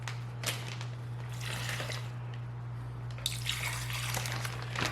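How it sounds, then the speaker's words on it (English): Marinade is poured over raw chicken wings inside a Ziploc bag, giving soft splashing, trickling liquid sounds close by, with a couple of sharp plastic crinkles over a low steady hum. "I'm going to pour the rest of this over our chicken"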